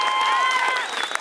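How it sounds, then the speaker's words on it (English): Audience applause breaks out during a stand-up comedy special, a short, loud burst of clapping and crowd noise with a few cheers or voices mixed in. "Big applause break there."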